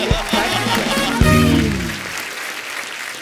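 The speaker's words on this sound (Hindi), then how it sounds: "बहुत बहुत स्वागत है, जोरदार तालियां" Applause from a TV comedy show studio audience, bursts of clapping under an excited host's speech and music, with a musical sting and a loud swell midway before fading.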